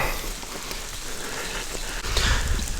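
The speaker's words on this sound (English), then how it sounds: "It's still a light drizzle." A light drizzle falls at a state park campsite in Florida, making a steady, close hiss of rain that grows a little louder and patters harder near the end, with no voices.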